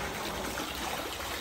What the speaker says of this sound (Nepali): यहाँबाट पानी ल्याउँदैछ फोहोर पानी ल्याउँदैछ